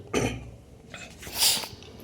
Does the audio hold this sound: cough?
yes